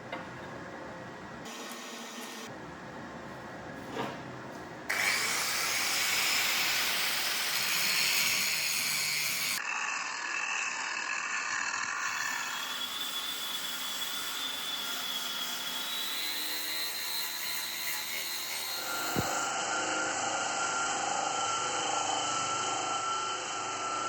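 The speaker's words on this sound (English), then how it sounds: "Using an angle grinder, we are smoothing out the rough hammered texture across the flats." An angle grinder rough-grinds a forged Damascus steel plate made from car shock absorbers, smoothing the hammered texture across the flats. It gives a loud, sustained whine that shifts in tone as the pressure changes, with no voices.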